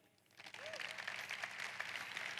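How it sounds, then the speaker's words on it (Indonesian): Audience applause at an Indonesian team seminar, starting faintly and swelling into steady, dense clapping that carries on to the end without talk over it. "Sekali lagi kita beri tepuk tangan di depan ini."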